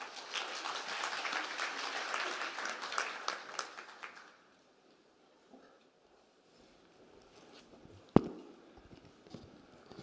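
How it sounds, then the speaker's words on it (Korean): Conference audience applause of congratulation, a few seconds of dense clapping that stops abruptly, followed by near quiet with a single sharp knock and faint shuffling. "축하의 박수 부탁드립니다."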